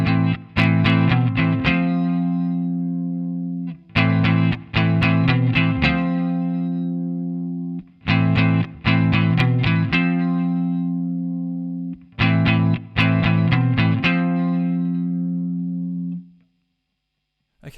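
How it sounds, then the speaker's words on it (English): First harmony guitar part from a song, a distorted electric guitar figure repeated four times, each burst of quick notes ringing out into a held tone before a pause. "first guitar sounds like this"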